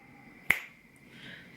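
One crisp finger snap lands sharply at close range against a quiet room, then fades quickly into faint background hiss.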